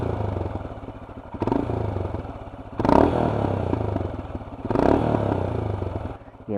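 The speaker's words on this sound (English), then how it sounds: "I'll give you a quick clip of the exhaust through a terrible camera phone microphone." A 2019 Royal Enfield Himalayan motorcycle exhaust rumbles at idle with a few blips of revving, uneven popping and crackling between the throttle bursts, recorded up close on a camera phone.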